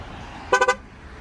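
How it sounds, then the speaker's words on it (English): A 2015 Cadillac SRX AWD with its V6 left running gives three quick, loud horn toots in rapid succession over a low engine idle. "These Cadillacs do honk at you when you leave the vehicle running."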